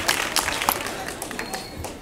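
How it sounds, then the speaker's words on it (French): An audience at an awards ceremony for excellence scholarships claps in a brief, steady burst of mixed hand claps, moderately loud, with crowd murmur underneath. "Des applaudissements pour lui aussi, s'il vous plaît."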